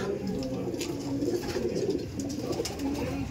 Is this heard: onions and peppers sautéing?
no